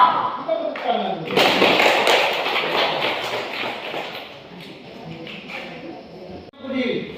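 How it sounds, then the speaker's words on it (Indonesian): A classroom of children claps hands together in a burst of dense, rapid applause that tapers off, with voices heard before and after. "Kita tepuk tangan dulu."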